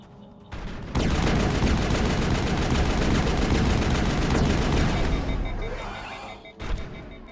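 Heavy gunfire on the Eden Prime level of a modded Mass Effect playthrough on Insane difficulty, a loud, continuous barrage of shots starting abruptly after a quiet moment and running for several seconds before tapering off with a final burst.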